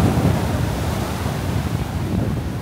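Rough, stormy sea surf pounds the Blackpool shoreline during Storm Ashley, a continuous loud roar of breaking waves mixed with heavy wind buffeting the microphone, with no voices.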